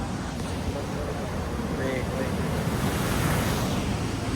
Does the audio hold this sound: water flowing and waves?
yes